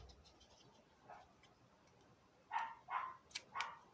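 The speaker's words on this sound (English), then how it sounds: "whether it's just little puppy is having a little cry and a shout" A small puppy next door yelps and barks in four quick bursts near the end, faint and distant, after a quiet stretch with only low room noise.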